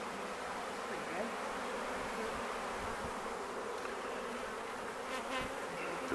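A honey bee swarm hums in a steady, dense buzz during a rescue in a London park, the drone holding near and constant throughout with only faint traces of voices.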